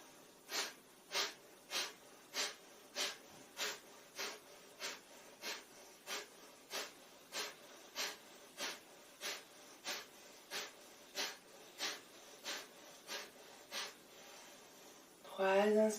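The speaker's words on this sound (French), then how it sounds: "Dernier round de 20 respirations Kapalbhati." Rapid, forceful Kapalbhati yoga exhalations come as about twenty evenly spaced, sharp puffs through the nose, close and clear, followed by a short spoken voice at the end.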